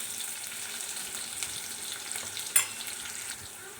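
Onion, green chili and ginger garlic paste frying in oil for an eggplant tomato curry, giving a steady, close sizzle with one brief louder clatter of stirring partway through.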